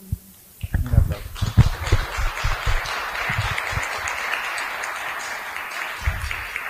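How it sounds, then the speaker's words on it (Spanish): An audience applauds after a winner is named in a televised taxpayer prize draw for an LED TV. A few sharp claps build into a steady wash of clapping that carries on under ongoing talk. "Un aplauso."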